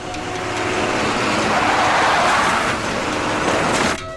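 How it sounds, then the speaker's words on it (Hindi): A van approaches and arrives, a broad road-noise rumble swelling louder then dropping off abruptly as it stops, with no voices over it. "बॉस, व्यान आ गई।"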